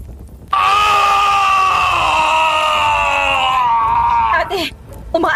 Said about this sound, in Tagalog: Pumunit ang sigaw nito sa hangin.